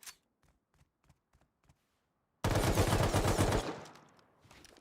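Video game gunfire: a string of faint, evenly spaced shots, then a loud sustained burst of rapid automatic fire that trails off into fainter reports.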